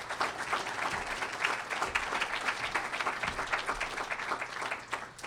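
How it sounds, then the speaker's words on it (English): Sustained audience applause fills a hall of fame induction ceremony, dense steady clapping from a sizable crowd throughout, with no voices rising above it. "So please give him a round of applause."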